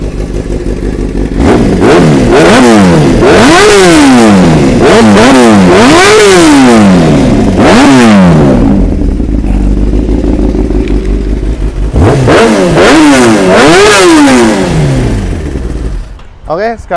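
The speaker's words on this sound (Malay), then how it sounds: "jom kita start tengok ini Kawasaki ZX-10R" A Kawasaki ZX-10R sportbike engine fires up and is blipped repeatedly, sharp loud revs rising and falling in quick succession, settling into idle between bursts, then another run of revs before cutting off.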